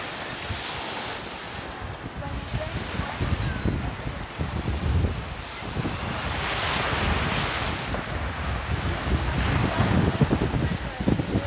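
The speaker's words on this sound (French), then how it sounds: "On va voir si on n'a pas trop le bruit des vagues." Ocean waves wash onto a beach in a steady surf roar, mixed with heavy wind buffeting the microphone, loud and continuous for the whole stretch.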